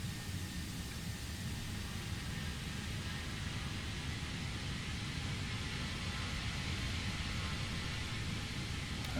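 Antonov An-225 at full power in Microsoft Flight Simulator, heard from outside the aircraft as a steady, broad roar of jet engines that stays even and unbroken from start to finish.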